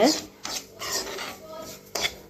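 A spoon scrapes and stirs semolina (rava) being dry-roasted in a pan for beetroot rava laddu, producing several close, gritty rasping strokes at uneven intervals.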